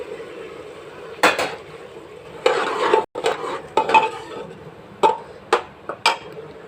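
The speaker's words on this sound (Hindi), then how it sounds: "अब इसमें हम टमाटर और हरी मिर्च डाल देंगे और इसको इसमें थोड़ा सा भून लेंगे" Tomatoes and green chillies stirred into cooked dal in a pot for kabuli khichdi, with a run of scraping spoon strokes and clinks against the metal, loud and close, alone with no talk.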